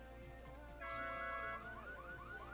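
A car alarm in the video game Island Life, set off by lockpicking: a loud, close electronic siren cycling through rising, warbling tones with no talk.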